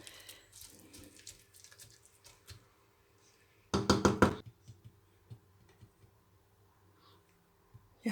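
Water poured into a pan of chole keema (spiced minced meat with chickpeas) set to cook on the stove, a short loud splashing burst in a quiet kitchen amid faint clinks and knocks.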